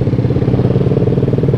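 Motorcycle with a loud modified exhaust on a night ride through Bogor city, a close, throbbing engine note pulsing rapidly and steadily throughout with no talk.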